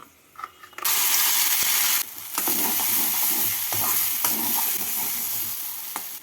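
A ground spice paste hits hot oil already tempered with cinnamon, cardamom and bay leaves and bursts into a loud, steady sizzle. Scraping and stirring clatter runs through it with no one speaking.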